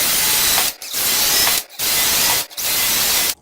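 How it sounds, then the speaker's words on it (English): A power drill bores holes for new casters in a workshop. Three loud, steady whirring bursts of about a second each are split by brief silent pauses, with no talk. "it's time to drill the holes."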